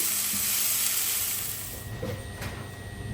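Pointed gourd (potol) fries in a pan, giving a close, steady, loud sizzling hiss that eases slightly partway through.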